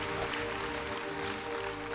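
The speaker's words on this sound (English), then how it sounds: "Put your hands together to celebrate Jesus." A church congregation claps together in steady, dense applause that fills the space evenly, with no voices standing out over it.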